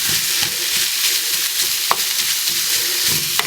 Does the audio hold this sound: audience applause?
no